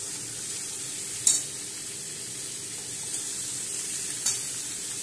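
Boiled, drained jackfruit and potato sizzling in a hot pan, a steady hiss of frying broken by a couple of brief sharp clinks of a utensil, with no voices.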